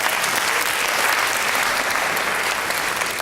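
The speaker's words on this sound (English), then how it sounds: "give yourselves a clap" A live audience at a talk in northern Netherlands gives itself a round of applause, a dense, even roar of many hands clapping that holds steady and loud.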